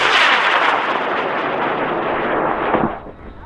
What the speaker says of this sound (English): We're going to do this in 5, 4, 3, 2, 1, launch.